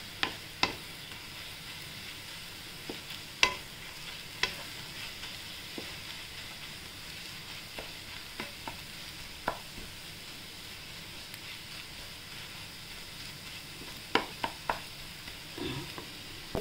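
Besan vegetable (dry gram-flour sabzi) stirred and frying in a pan, a steady soft sizzle with scattered scraping clicks of the spatula, close and fairly quiet.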